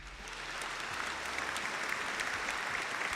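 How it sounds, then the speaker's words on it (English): Applause begins softly and swells into a steady wash of many hands clapping. It stays fairly faint and distant throughout, and no one is speaking. "Can we clap it up for me?"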